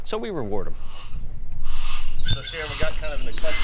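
An excited bird of prey, a hawk or falcon handled by a falconer, gives a few sharp rising whistled calls at the start and again later, moderately close over a noisy outdoor background.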